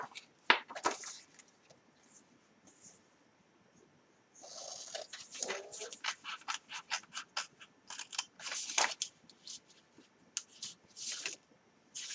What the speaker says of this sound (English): And we're just cutting on the cut lines.